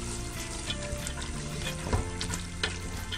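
Spices fry in a pan for dal chana with a dense, constant sizzle and occasional stirring knocks. The frying is close and fairly quiet, with nobody talking.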